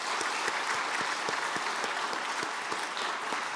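A church congregation applauds the worship team during a New Year prayer meeting, a dense sustained wash of clapping at steady volume with a few sharper individual claps standing out, no voices over it.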